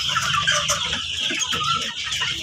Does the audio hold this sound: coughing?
no